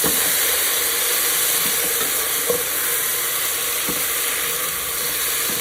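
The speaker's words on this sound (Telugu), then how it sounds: "సో ఇప్పుడు మనం దీంట్లో రైస్ అనేది యాడ్ చేసేసుకుందాం." Rice goes into a pot of frying country chicken for chitti muthyala natukodi pulao, bringing a loud continuous sizzle and hiss with a few soft scraping stirs and taps underneath, no talking.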